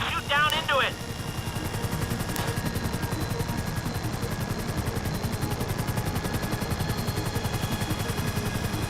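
Rapid, continuous machine-gun style gunfire in GTA V rattles steadily for the whole span, with a loud burst at the start and a voice briefly speaking early on.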